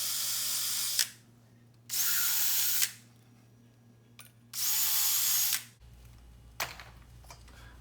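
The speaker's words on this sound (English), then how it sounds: "I'll be making pilot holes with a number 41 drill." A power drill with a number 41 bit whirs in three short bursts drilling pilot holes, separated by pauses, with a few light clicks and knocks afterward.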